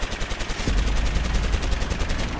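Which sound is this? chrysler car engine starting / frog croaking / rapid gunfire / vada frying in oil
rapid gunfire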